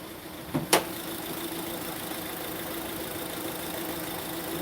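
A 2010 Honda Accord 2.4L engine idles with an uneven puttering rumble, steady and close, after two sharp clicks near the start, with no voices.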